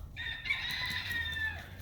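A rooster on a homestead gives one full crow, loud and close, drawn out for more than a second over a low background hum.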